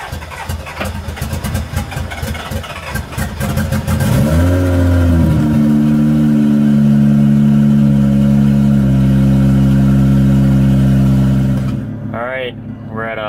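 A Toyota SC300 with a 1JZ engine cranks over and fires up, then settles into a loud, steady idle that carries on alone for several seconds before a voice speaks near the end.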